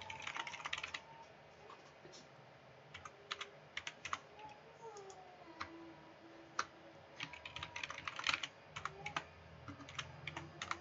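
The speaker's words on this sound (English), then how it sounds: "I'm going to type in again a new password." Quiet, steady clicking of a password typed on a computer keyboard, keys pressed in quick irregular runs with brief gaps, close and soft, no talk.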